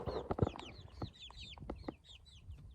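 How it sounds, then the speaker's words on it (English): Chickens kept in an old baby cage draped with shade cloth cluck close by in quick, uneven bursts of short chirping calls, with soft rustling between them. "want y'all to come with me to check on the chickens real quick"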